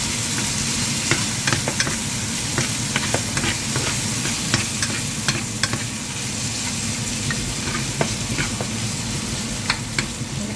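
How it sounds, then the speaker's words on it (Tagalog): Tuna sautéing in a pan for tuna sarciado, a continuous close sizzle of hot oil with scattered sharp crackles and scraping stirs, steady and fairly loud, without talk. "Susutin muna natin siya."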